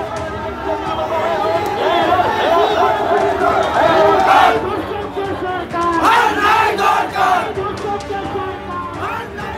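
Rival TMC and BJP supporters at a street rally in Pundibari, Cooch Behar, chant slogans against each other; loud massed shouting and crowd roar continue without pause throughout, swelling in rhythmic bursts.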